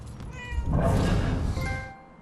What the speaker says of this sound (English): Shoo, cat, get out of here.